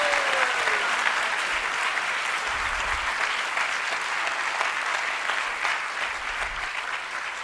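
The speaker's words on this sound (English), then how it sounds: "If you think Vani did amazing, give her a round of applause" A crowd at a Gita Jayanti celebration at Bhaktivedanta Manor gives sustained applause for a performer named Vani. The clapping is even and continuous from start to finish, with a faint tone early on.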